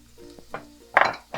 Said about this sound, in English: I'm going to fry up my onions to season the oil